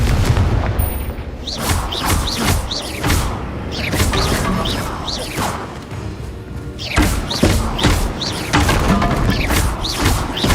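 Confringo blasting spells in the Hogwarts Legacy video game go off in a rapid string of loud explosive bursts and crashes mixed with combat effects and mechanical clatter, dense and continuous.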